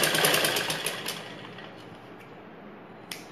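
Sewing machine stitching blouse fabric: a fast, even mechanical whirr with rapid needle clatter, loud at first and then easing off as the machine slows, ending with a brief click.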